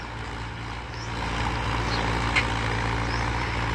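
Two tractors ploughing a farm field together, their engines giving a steady low diesel rumble that holds throughout and grows slightly louder after the first second, with no voices.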